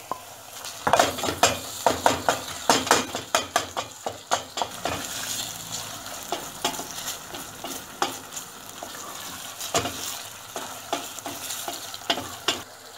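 Minced meat frying in a pan for stuffed peppers, eggplant and zucchini, stirred with a utensil: steady close sizzle broken by repeated sharp scrapes and clinks of the spoon against the pan, with no talking.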